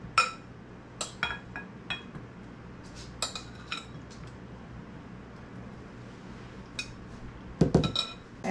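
Food being mixed with homemade ranch dressing in a bowl, scattered clinks and scrapes of a utensil against dishware, close and intermittent, with no talking.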